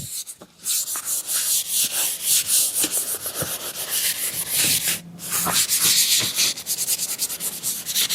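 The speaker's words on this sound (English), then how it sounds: "this is probably about a 400 grit sanding sponge by now" Close, continuous hand sanding with a well-worn 400-grit sponge on refinished furniture, a rapid back-and-forth rasping scrub with brief pauses between strokes.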